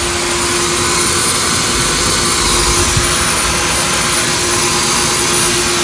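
A shop vac pulls hard through a plastic hay filter on a drum, putting out a loud, steady hiss and broad roar with a constant high whine, unbroken for the whole stretch.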